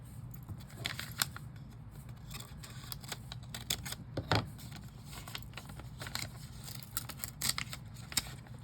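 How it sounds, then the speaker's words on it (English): Scissors snip open a mailed giveaway envelope indoors, giving a quiet series of irregular crisp cuts and clicks with light paper handling in between and no talking. "let me get some scissors. I don't want to tear the entry."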